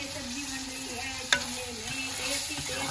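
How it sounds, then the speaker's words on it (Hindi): Vegetable curry sizzling and frying steadily on an outdoor clay stove, a close, even hiss with a brief stir or clink midway and no voices. "बाहर चूल्हे में बन रही है सब्जी"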